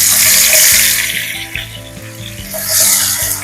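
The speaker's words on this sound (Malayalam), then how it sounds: "എണ്ണ നന്നായിട്ട് ചൂടായിട്ടുണ്ട്. നമുക്ക് കുറേശ്ശെ ഇട്ട് വറക്കാം." Pieces of elephant foot yam drop into hot oil for Kerala chena upperi, raising a loud bubbling sizzle that swells, eases a little, then surges again, with no talk.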